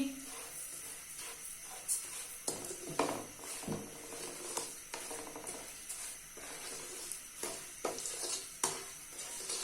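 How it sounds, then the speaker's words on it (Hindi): Ghee and sugar cook in a pan for pumpkin halwa, a soft continuous sizzle under repeated stirring scrapes and light clinks of a spoon against the pan, fairly faint with no talking. "चीनी डाल के हमने इसको अच्छे से कुक कर लेना है ताकि हमारी चीनी जो है वो अच्छे से मेल्ट हो जाए"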